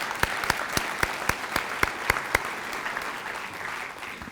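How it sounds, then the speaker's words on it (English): An audience at a National Honor Society induction ceremony claps; a few distinct sharp claps stand out at first, then thin scattered applause fades in a fairly quiet hall. "Let's give these kids a round of applause."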